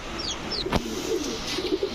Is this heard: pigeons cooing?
yes